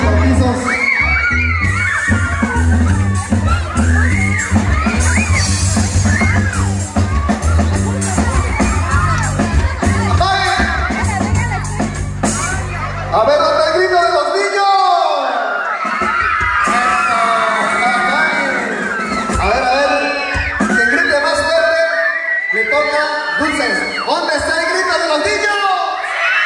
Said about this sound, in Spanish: ¿cuánto hay grito de los niños?